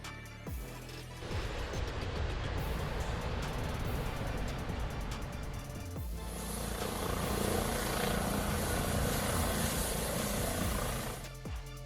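A helicopter's loud, steady rotor and engine roar close by, with a whining turbine tone that shifts partway through as it comes down.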